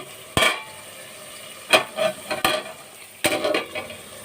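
A metal lid clatters onto a pan of egg curry on a stove, several sharp clanks and scrapes spaced apart over a faint background, with no voice.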